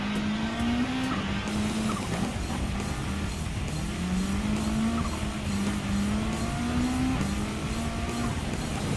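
A Subaru WRX Group B rally car engine drones and shifts through rising gear pulls in the racing game Gran Turismo 7, steady and close, with tire noise and revs climbing in repeated steps.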